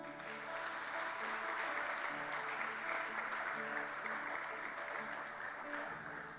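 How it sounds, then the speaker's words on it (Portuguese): A church congregation applauds during a sermon, a soft, continuous patter of many hands over sustained keyboard tones, fairly faint and distant. "Vamos aplaudir Jesus por isso?"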